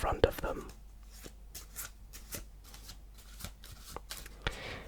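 A deck of playing cards shuffled close up during a quiet card magic routine, soft repeated riffles and taps spaced across the moment, with faint whispery sound around them.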